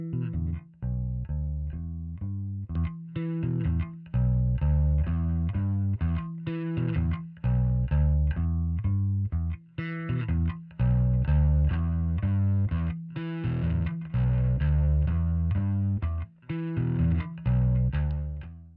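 Bass guitar played through an Audiolithe The Empress bass drive pedal, a distorted, gritty tone in a riff of short notes and held pitches with brief pauses, loud and upfront with no talking.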